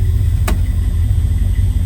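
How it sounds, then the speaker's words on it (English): A 1974 Dodge Dart with a 318 engine and automatic transmission runs with a loud, steady low rumble, marked by one sharp click early on. "Gonna start up our Dodge Dart, good running car."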